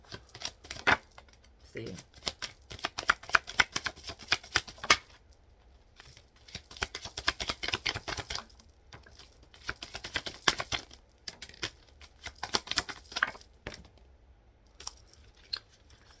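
A deck of playing cards is shuffled and cut in bursts of rapid papery riffles and crisp clicks, with pauses between the bursts and a brief voice speaking.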